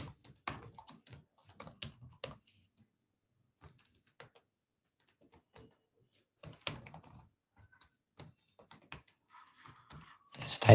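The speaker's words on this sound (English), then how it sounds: "Just typing it." Someone types on a computer keyboard in irregular bursts of sharp key clicks, with short pauses in between and a louder flurry near the end, close up and with nobody talking.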